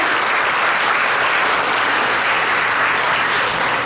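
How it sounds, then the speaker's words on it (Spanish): Audience at an academic event on small-business financing breaking into loud, dense, continuous applause for an academic director, even and sustained for about four seconds with no pause. "también le pedimos fuertes palmas"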